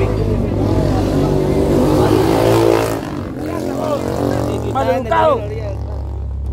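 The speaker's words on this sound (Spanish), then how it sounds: "Ya no se oyó porque la moto los interrumpió." A motorcycle passing near a beach, its engine rising loudly in the first few seconds and then fading, with voices talking over it.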